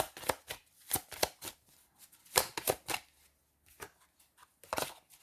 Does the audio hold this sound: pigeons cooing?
no